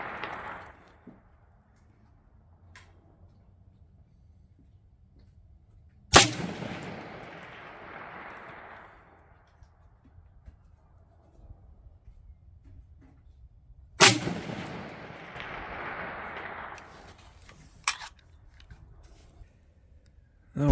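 Rifle shots at an outdoor shooting range, a few sharp loud cracks spaced several seconds apart, each trailing off into a long echo over quiet background noise.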